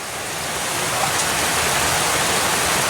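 Steady heavy rain hisses as dense, continuous noise that swells slightly at the start, with no voices.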